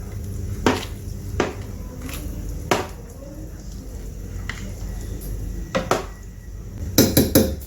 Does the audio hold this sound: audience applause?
no